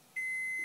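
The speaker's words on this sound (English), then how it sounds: "Is just going to keep on beeping at me too." A single sustained high-pitched electronic beep from a kitchen appliance, lasting about half a second, clear and close over a quiet background.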